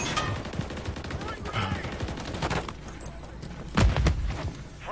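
A sniper rifle and other weapons fire in the video game Modern Warfare 3. Loud, crowded gunfire and a heavy boom near the end sit amid game noise, with some talk.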